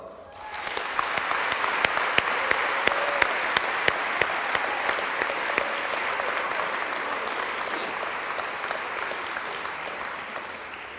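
An audience gives a sustained round of applause for a departing speaker at an event, dense clapping with a few sharp individual claps standing out, loud and steady throughout before easing slightly at the end.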